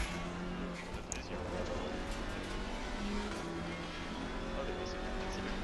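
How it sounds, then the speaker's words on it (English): Race cars roar through a sim race at Oulton Park in Assetto Corsa Competizione, with steady engine drone and another car passing close by while a voice talks over the top. "And one more car overtakes me, so now I'm definitely at the back."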